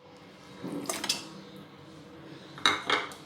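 Onion and meat go into a cooking pot with two quick clusters of metallic clinks and scrapes from a utensil against the pot, close and fairly quiet, with a soft sizzle between.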